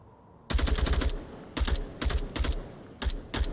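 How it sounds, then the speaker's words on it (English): Gunfire in the Onward VR shooter rattles in five sharp automatic bursts, the first longest, each a rapid string of loud cracks separated by brief gaps. "it sounds like Mikey's taking more shots over to the gas station there"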